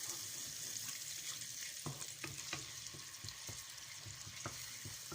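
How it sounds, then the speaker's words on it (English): Grated garlic and ginger frying in hot oil for fried rice, a steady close sizzle with occasional sharp stirring clicks and scrapes from a utensil in the pan. "once the oil is a bit hot, you want to add your grated garlic and ginger"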